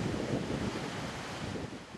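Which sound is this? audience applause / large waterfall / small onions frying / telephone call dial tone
large waterfall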